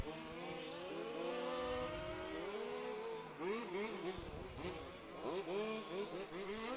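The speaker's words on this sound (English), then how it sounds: "So at least we got 6 cars on the track" Several off-road RC cars race around the track at a European championship qualifying and finals, their high-pitched electric motors whining and swooping up and down in overlapping revs as they pass, loud and continuous, with a voice talking underneath.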